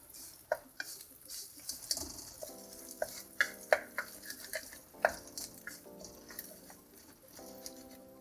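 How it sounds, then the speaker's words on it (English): Eggs seasoned with salt being scrambled in a pan with a utensil, giving a run of quick scraping and tapping strokes over a soft sizzle, fairly close and without voices. "So just scrambling the eggs."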